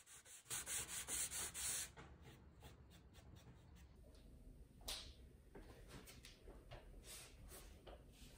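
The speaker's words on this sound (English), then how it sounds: "I also sanded the sides to dull and slightly round off the edges." Sanding of wooden cabinet track pieces, dulling and rounding their sides and edges, with strong close rhythmic rubbing strokes in the first two seconds, then fainter scattered scraping and brushing sounds.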